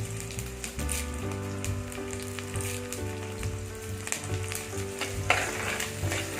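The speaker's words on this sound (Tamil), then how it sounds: "இது நல்லா வதங்கணும் அப்புறம் தான் தக்காளி சேர்க்கணும்" Green chilies and curry leaves fry in hot oil for a Tamil fish curry, a close, continuous sizzle with stirring scrapes and occasional sharper crackles throughout.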